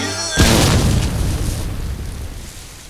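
A cartoon bombardier beetle lets out a fart explosion, a sudden loud boom that bursts in and then decays into a long roaring rumble.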